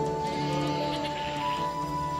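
Goats in a Garhwal hill forest bleating steadily over a droning background, a continuous sheep-like bleat close by with no speech.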